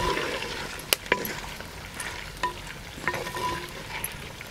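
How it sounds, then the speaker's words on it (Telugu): Curry leaves dropped into hot oil in a frying pan for a pumpkin curry, a moderate crackling sizzle with a few sharp pops and clatters. "అలాగే కరేపాకు రెబ్బలు కూడా వేసుకుంటున్నా."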